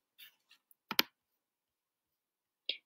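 A few sparse, quiet clicks of keys on a computer keyboard, separated by long silent gaps, with one louder cluster of taps in the middle.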